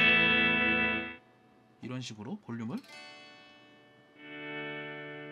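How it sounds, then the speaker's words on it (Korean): Guitar played through a Flamma FX200 effects unit with an expression pedal set to volume: sustained, heavily processed chords fade out, someone talks briefly, then the chord swells back in. "지금 여기 있는 페달이 볼륨으로 설정돼 있어요"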